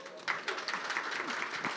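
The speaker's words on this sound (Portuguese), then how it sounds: "Pode aplaudir" Audience applause at a climate emergency forum opening panel, a short burst of scattered clapping with voices talking over it.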